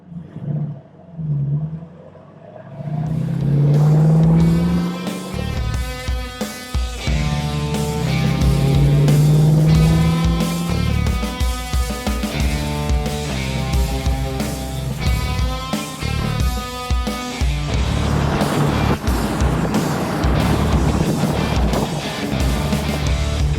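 A 1968 Mustang Fastback running on Holley Sniper EFI rumbles loudly up close, its engine note rising and falling through revs and shifts, with the drone continuing steadily throughout.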